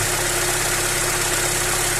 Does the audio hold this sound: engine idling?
yes